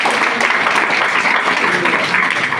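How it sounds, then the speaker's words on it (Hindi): Audience at a business success seminar giving a round of applause, a loud dense burst of clapping that holds steady for a couple of seconds. "एक ताली दीजिए।"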